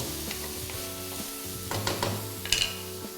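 Bacon sizzles in a pan as Chinese wine is added and stirred, a close, steady frying hiss broken by scraping stirs and brief louder bursts, with no talking.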